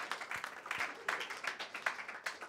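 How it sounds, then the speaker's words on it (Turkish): An audience applauds students at an event, with a scattered, fairly faint patter of clapping from a small crowd at a moderate distance. "Put your hands together for the students."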